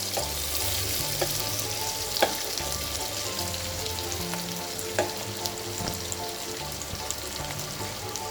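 Chicken curry mixture with a little salt fries and sizzles in a pan, a constant crackling bed broken by occasional stirring clinks and taps, with no voices.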